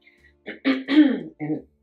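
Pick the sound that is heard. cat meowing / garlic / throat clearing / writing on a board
throat clearing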